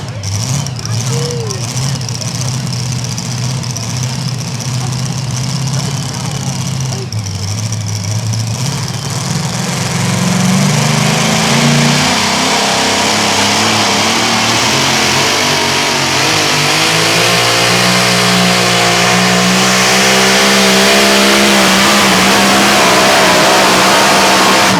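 A Chevrolet pulling truck called Old School, driven out of Mulberry, Tennessee, revs loud and close on a sled pull track at a truck and tractor pull, its engine pitch climbing steadily through a long run as an announcer talks over it.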